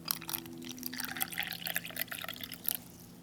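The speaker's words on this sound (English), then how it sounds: "But we'll go ahead and add some more water." Water trickles and splashes into an MRE cocoa beverage pouch from a 1992 ration, a short, close, uneven pour with small drips and no talking.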